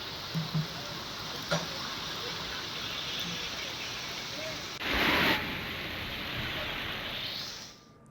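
Heavy continuous rain pours over the Baramati area, a dense, steady wash of hiss that swells into a louder gush for about half a second midway before tapering off at the end.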